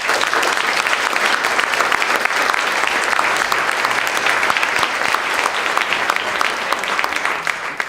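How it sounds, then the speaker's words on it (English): Sustained, loud applause from an audience at a transportation summit in St. Paul, a dense steady wash of clapping filling the room for the whole stretch without letup. "Can we have another round of applause?"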